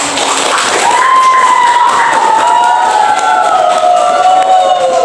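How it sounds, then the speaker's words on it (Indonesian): Students in a classroom cheer loudly, with a sustained drawn-out shout over a noisy crowd, close and unbroken for the whole stretch. "Beri tepuk tangannya kepada"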